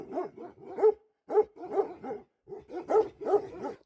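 Bhotia guard dogs barking at night, a run of loud, close barks in quick bursts with a short pause before another cluster of rapid barks.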